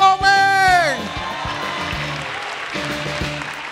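At the grand final of Stand Up Comedy Indonesia, a crowd greets comedian Bang Komeng with applause, whoops and cheers; a loud tonal shout or musical sting opens, then steady clapping and crowd noise continue.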